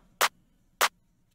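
Two sharp, bright clap hits from a drum sample in an ambient-style beat, evenly spaced about half a second apart, crisp and isolated against near silence.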